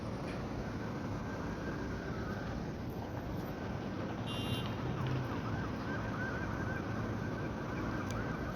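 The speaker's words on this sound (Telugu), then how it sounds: "అంబులెన్స్ వస్తుంది" A faint ambulance siren wails in the distance near a hospital in Kuwait, its rising and falling tone barely cutting through low background rumble.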